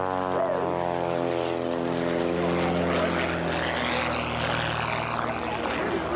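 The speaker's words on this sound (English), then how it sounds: "The airplane at 160 miles an hour now, making that power correction, making that altitude correction." A propeller airplane flies low and fast past the crowd at the 1985 Pratt & Whitney 60th Anniversary Airshow, its steady droning engine loud and close, the pitch sliding downward as it passes, with an announcer speaking over it.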